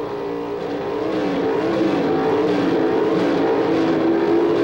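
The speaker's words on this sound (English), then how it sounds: "The RPM's climbing at the starting line" Pro Stock drag race cars, a Chevrolet against a Mopar, at the 1978 NHRA US Nationals, holding a loud steady high-revving engine drone at the starting line that builds slightly and continues without a break.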